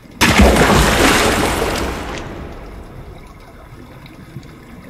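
A broadband splash of water bursts in loudly as a diver enters the water in the video game Death in the Water, then fades into a lower underwater wash and rumble.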